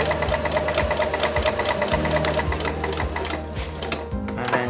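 A sewing machine runs steadily, stitching the peak of a baker boy cap in place with an even, rhythmic mechanical thump throughout, close and unbroken.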